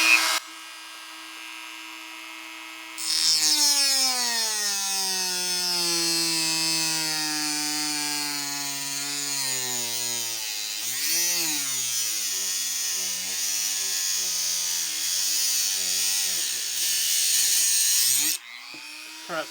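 A Hyper Tough rotary tool making a plunge cut, its high-pitched whine starting suddenly and holding steady, then wavering in pitch as the bit bites into the material, before cutting off abruptly.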